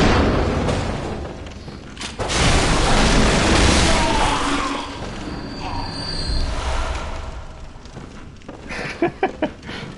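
Gunfire from an enemy in the video game Bloodborne: a heavy booming blast, then a dense rumble and a quick cluster of sharp cracks near the end.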